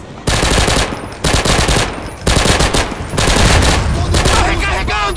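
Sustained automatic gunfire from a Garry's Mod firefight, loud and close, in long rattling bursts separated by brief pauses, with shouting voices mixed under the shots.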